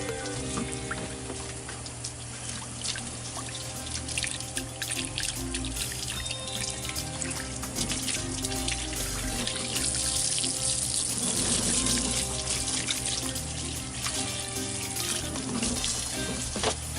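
Tap water runs steadily into a kitchen sink, a continuous close splashing hiss with faint drips and clinks while fish is being cleaned, no voices.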